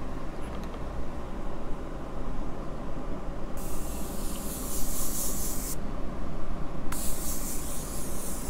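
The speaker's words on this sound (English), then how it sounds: "I'm going to be setting my face with this Morphe continuous setting spray" Two bursts of fine aerosol spray from a Morphe Continuous Setting Spray hiss close by, the first lasting about two seconds and the second starting a moment later, over steady low background rumble.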